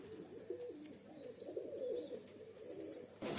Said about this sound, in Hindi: ये पुराना कबूतर है बोलते इलियास भाई का बहुत। ये बड़ा कबूतर है।